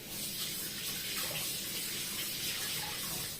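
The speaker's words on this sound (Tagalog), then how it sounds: "Hugas tayo ng kamay." Tap water runs steadily from a faucet while hands are washed in a kitchen during roast chicken preparation, a continuous close hiss with no talk.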